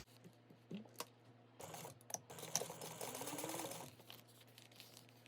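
Sewing machine top stitching along zipper tape on a Hello Kitty bag, stitching 1/8 inch from the edge, a quiet mechanical whir in short bursts with a longer steady run in the middle and small clicks and handling noises around it.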